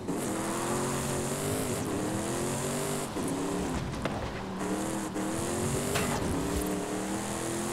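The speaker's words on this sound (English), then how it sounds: "from the back it just sounds like a normal V8" A Toyota Tundra TRD Pro pickup's deep V8 engine rumbles steadily throughout, its pitch rising and dipping as it revs, loud and close with no voices.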